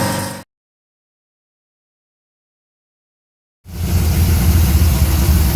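Chevette fitted with a Mercruiser V8 pulled from a Bel Air, running after a fresh swap with smoke burning off the manifolds; a short burst, a gap of silence, then a loud steady rumble close by.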